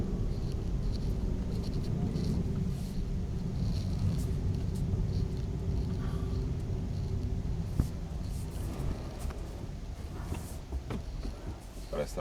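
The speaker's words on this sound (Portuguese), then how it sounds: "Vamos ver se eu consigo atingir a velocidade máxima do carro" Tesla Model 3 accelerating hard down an airport runway, a steady close rumble of road and wind noise filling the interior, with a faint speaking voice underneath.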